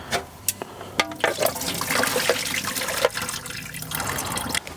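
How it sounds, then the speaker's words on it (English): Water draining off boiled unpeeled potatoes, a steady close pour and splash with a few sharp clanks of the pot, continuous and moderately loud. "they are now nice and soft and ready to be drained"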